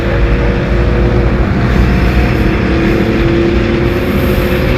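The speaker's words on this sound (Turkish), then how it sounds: "bakın Özgür Suriye ordusunun aracı geçiyor." A Free Syrian Army vehicle driving past in Syria, a loud, steady engine and road rumble that fills the whole stretch close by, with no talking.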